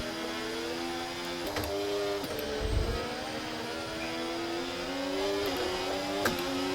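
A high-revving F1 car engine from F1 24 whines steadily with gear changes shifting the pitch up and down, heard continuously at moderate volume with a low thump partway through.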